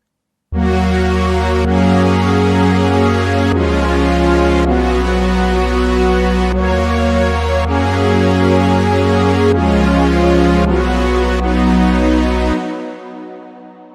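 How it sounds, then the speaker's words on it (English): A sustained synthesizer pad recreating the pad from a track, with its filter opened up, moves through slow chord changes, bright, rich and buzzy, then fades away. "And when you open the filter up, it sounds something like this."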